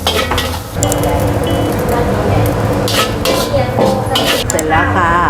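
Tom yum fried rice with crispy pork and sliced spring onions is tossed in a pan, with clinking and scraping of a utensil against metal over a light sizzle, close and busy, while someone talks.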